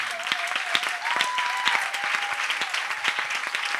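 A church congregation applauds steadily, a dense close wash of clapping hands that runs evenly throughout, with a faint sustained tone behind it.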